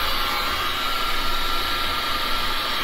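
A heat gun blows hot air over a resin pour, a steady, loud, even rushing hiss that holds without a break throughout.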